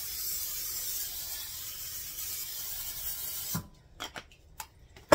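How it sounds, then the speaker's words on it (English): A continuous hissing spray from an aerosol can of cooking spray onto a baking pan runs for a few seconds, then stops, followed by a few light clicks and knocks. "So the first thing it says to do is spray your pan."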